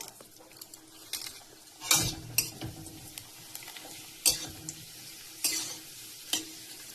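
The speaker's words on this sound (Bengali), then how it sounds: "তো তেল গরম হয়ে গেছে, দিয়ে দেখি কেমন হয়।" Rice flour papad dropped into hot oil at home, giving bursts of frying sizzle and crackle with stirring and utensil clatter, several louder surges over a steady low hiss, no talking.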